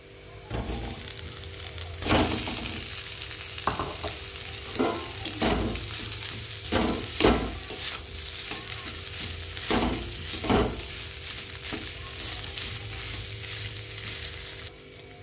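Boiled potatoes, lightly mashed by hand, are stirred into fried carrots in a pan, with scraping spoon strokes and soft thuds over a steady sizzle, close and moderately loud, no talking.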